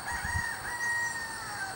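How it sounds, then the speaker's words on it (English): A farm rooster crows once, a short clear cock-a-doodle-doo at moderate distance, heard alone outdoors. "Is that a chicken? It is a chicken."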